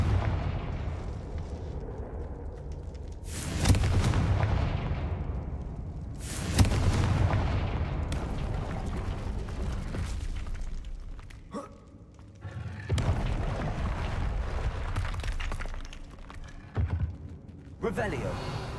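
Repeated spell explosions in the video game Hogwarts Legacy, several loud booming blasts with rumbling tails spaced a few seconds apart, with voice chatter at times.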